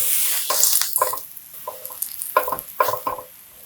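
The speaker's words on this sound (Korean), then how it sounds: "통마늘 8개, 썰어놓은 양파, 대파 올리고 앞뒤로 노릇노릇하게 맛있게 구워줍니다." Shiitake mushrooms, whole garlic cloves, onion and leek frying in olive oil in a pan over medium-low heat, a soft steady sizzle broken by several short clattering stirs and scrapes, with no voices.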